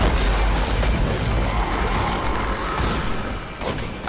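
Gunfire in the video game Destiny, a dense booming blast with rumbling low end, loud and continuous with reverberant explosive texture.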